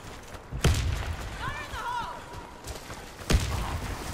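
Several deep booms of grenade blasts in the Warface shooter, one early and one near the end, with lighter game effects in between and a player's voice over the action.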